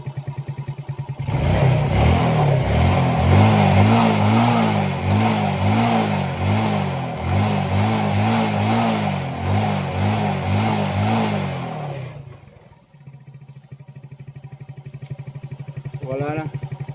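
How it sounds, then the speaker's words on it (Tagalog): A small engine with a gas overflow fault, its float and valve suspected, revs in loud repeated bursts for about eleven seconds, then drops to a quieter idle while people talk nearby. "So try ulit natin i-rev."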